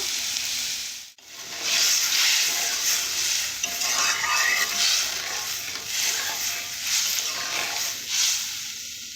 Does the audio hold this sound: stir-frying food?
yes